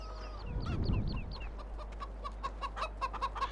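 Chickens cluck in a burst of short, repeated calls on a farm in the video game Farming Simulator 17, heard close up with no talk over them.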